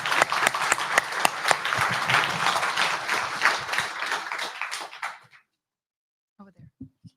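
Audience applause after a speech at a cloud security tech event, dense clapping for about five seconds that fades out abruptly, followed by a few faint knocks in near silence.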